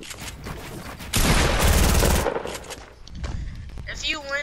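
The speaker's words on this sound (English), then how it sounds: "I already know Preston gonna shoot him again" Automatic gunfire from a Fortnite match, with a loud sustained burst of rapid shots lasting about a second, followed by quieter game sounds and a brief electronic tone near the end.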